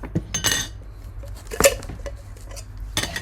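A heavy, thick glass jar with a lid is handled, giving sharp close clinks and knocks at the start, in the middle and near the end, with quiet rustling between.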